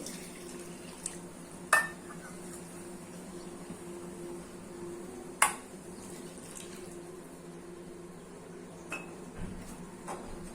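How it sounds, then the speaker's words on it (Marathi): Milk poured steadily into a metal pan over semolina and water, a continuous wash of sound broken by a couple of sharp metallic clinks. "त्याच वाटीने मी 2 वाट्या दूध घालणार आहे"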